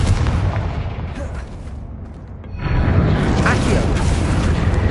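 In Hogwarts Legacy, a fiery Confringo spell explosion erupts as a loud, rumbling blast, fading briefly before a second burst of booming crackle follows.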